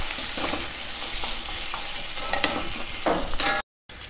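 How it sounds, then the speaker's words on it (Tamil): Chopped onions and tomato sizzling and frying in a pan while being stirred for Tamil sodhi kulambu, a steady close crackle with occasional scrapes of the spoon, alone without talk. "வெங்காயம் நல்லா வதங்கிடுச்சு. நான் சும்மா ஒரு தக்காளி போடுறேன்."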